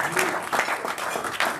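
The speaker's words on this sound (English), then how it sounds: "So please give yourself a round of applause." Members at a Rotary club meeting clap for themselves in a brief, lively burst of group applause, close and busy, with individual claps popping out of the wash.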